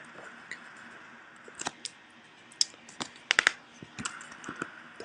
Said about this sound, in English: I also hope that you don't mind the sound of my keyboard